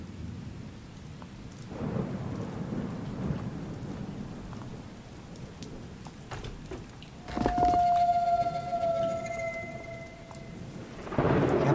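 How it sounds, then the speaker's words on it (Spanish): Rain patters steadily in the Blair Witch video game while thunder rumbles and cracks, with a sharp thunderclap midway and another loud burst at the end. "los putos truenos de mierda"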